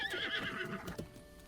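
A horse in The Legend of Zelda: Breath of the Wild gives a brief whinnying neigh followed by a few faint hoof clops, clear and close with no voices over it.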